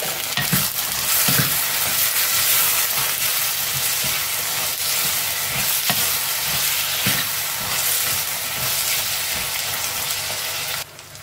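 Jackfruit seeds fry with onions in a pan for a jackfruit-seed and brinjal kuzhambu, giving a dense, continuous sizzle close up with regular stirring knocks and scrapes throughout. No one speaks.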